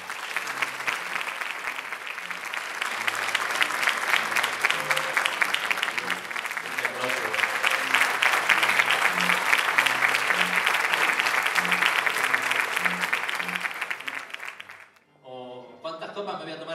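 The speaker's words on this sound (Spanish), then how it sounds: "Pido para él un aplauso a la altura de su tarea." Audience applause at a festive gala in a banquet hall, a long, loud, steady roar of clapping from a large crowd with a few voices underneath, fading away near the end before talk resumes.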